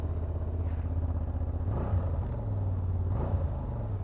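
A 2023 Honda XL750 Transalp with its standard exhaust runs close by, a steady low rumble that swells with a couple of brief throttle blips.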